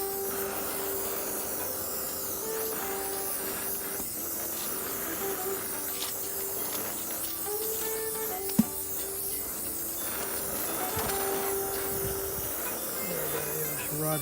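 A torch heats a cracked cast Glenwood stove for brazing, a continuous soft roaring hiss with faint tonal hum and a single sharp tick midway.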